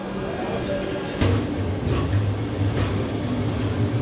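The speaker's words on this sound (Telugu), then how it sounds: "సో కాచిగూడ యశ్వంత్పూర్ వందే భారత్ అయితే బయలుదేరిపోయింది." Kacheguda–Yesvantpur Vande Bharat train departing a station, a continuous loud rumble of rolling rail cars with faint squeals and noise swelling as it pulls away.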